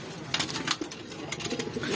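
A pigeon coos softly and close by in a quiet setting, a couple of low rounded calls with faint rustling between them.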